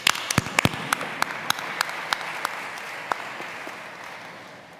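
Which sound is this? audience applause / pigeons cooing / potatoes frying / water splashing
audience applause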